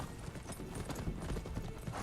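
Hooves of a dark horse in the samurai video game Ghost of Tsushima clip-clop in a quick steady rhythm, fairly close, with a possible faint whinny mixed into the game audio.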